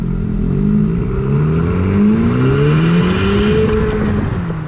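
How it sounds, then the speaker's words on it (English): A 2017 Honda Civic Si engine pulls hard through the gears, its loud revving tone climbing steadily with a rough, continuous drone from inside the car. "I also suspect this engine is a bit underrated because it pulls frantically"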